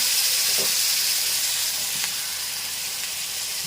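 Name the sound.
cucumber chutney added to hot tempering, sizzling in pan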